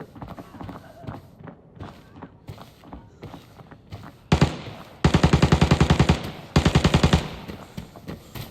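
Automatic gunfire in the shooter game Arena Breakout: scattered faint shots and footsteps at first, then loud rapid bursts of machine-gun fire in two long strings near the end.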